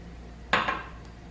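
A utensil clatters against a bowl once in a quick scrape while corn flour flakes are stirred with water, briefly and close, then quiet.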